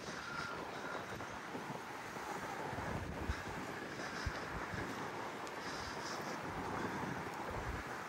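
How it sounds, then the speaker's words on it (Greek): Strong wind of around force 6 blows outdoors at a seaside town, a constant low rumble buffeting the microphone with faint gusts and no talking. "Δυστυχώς έχει πάρα πολύ αέρα, γύρω στα 6 μποφόρ από ό,τι είδα."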